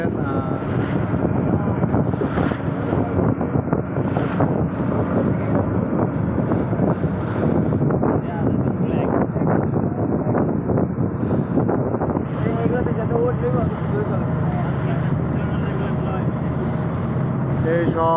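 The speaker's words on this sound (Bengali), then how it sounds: "এই সব স্পিড বোট সব কিন্তু মাহফিল থেকে আসতেছে।" Speedboats and crowded trawlers on a river carrying people home after the Charmonai gathering, with a continuous loud engine drone and wind buffeting, while voices talk over it.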